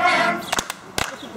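Children clapping their hands during the song "If You're Happy and You Know It" at a fourth birthday party, giving a few sharp claps close by over singing voices.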